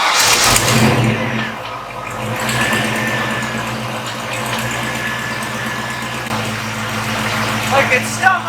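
A 90s Ford Mustang engine with its old mass airflow sensor idles in a Canadian winter, a rough, steady mechanical drone with a slight uneven pulse and a few small rev changes.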